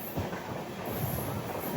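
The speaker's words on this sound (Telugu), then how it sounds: "భీమవరం నుంచి నిడదోలు వెళ్ళే మెమో ట్రైన్ అది" A MEMU passenger train running between Bhimavaram and Nidadavolu passes close by on a crossover, its steady rumble and rolling wheel noise sustained and loud with no voices.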